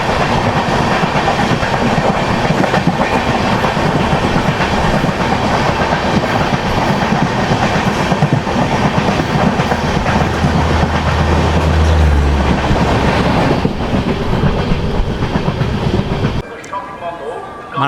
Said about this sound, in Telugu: చర్రపల్లి నుంచి కాకినాడ టౌన్ వెళ్ళే స్పెషల్ ట్రైన్ ఇది.